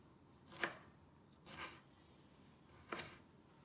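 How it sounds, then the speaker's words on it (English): A knife chopping tomatoes into small pieces on a board, three sparse, faint cuts spaced about a second apart. "Then cut the tomatoes into several pieces."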